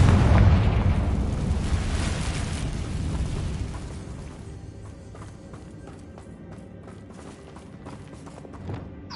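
The Confringo fire spell in the Hogwarts Legacy video game sets off a loud booming explosion with a rumbling blast at the start. It decays over several seconds into quieter crackles and small impacts.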